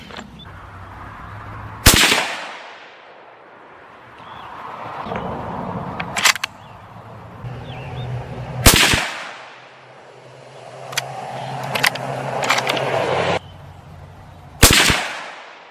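Four loud rifle shots of Federal Power Shock ammunition crack out at spaced intervals, each echoing away, with fainter clicks and shuffling handling sounds between them at an outdoor range.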